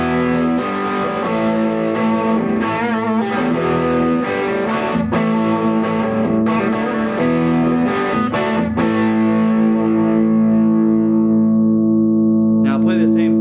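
A Carvin CT424 solid-body electric guitar, made in the USA, played on its bridge pickup through heavy distortion; loud strummed chords and notes hit repeatedly, then one chord is left to ring and slowly fade.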